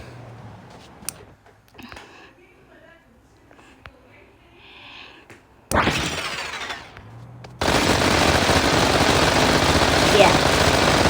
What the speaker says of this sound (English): I want to show you the power of the machine gun first.